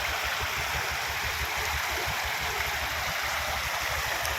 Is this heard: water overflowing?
yes